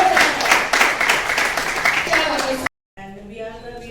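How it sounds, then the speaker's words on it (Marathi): An audience at a maternal care event claps loudly together for Manipal Hospital in a dense burst of applause. It cuts to a short silence, and then a voice speaks. "सगळ्यात आधी जोरदार टाळ्या आपण एकदा मारूयात मणिपाल"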